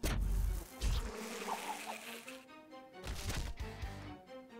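Bees buzzing in The Last Spell tactical video game, a dense insect drone that swells and fades with a couple of heavier impact thumps between, close and moderately loud.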